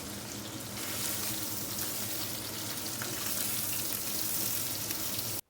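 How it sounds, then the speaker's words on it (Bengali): Paneer pieces fry in hot oil with a dense, continuous crackling sizzle, close and steady until it cuts off abruptly at the end. "সমস্তগুলো তেলের মধ্যে দিয়ে নেওয়ার পরে হালকা করে ভেজে নিতে হবে।"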